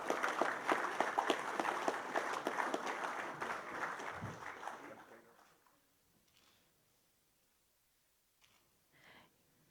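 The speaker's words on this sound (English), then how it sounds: "Can we give the Honorable Prime Minister another round of applause, please, ladies and gentlemen?" Applause from the audience at the opening session of the Pacific Islands Development Forum leaders' summit, honouring a prime minister: dense, loud clapping for about five seconds, then fading to near silence with a few faint sounds afterward.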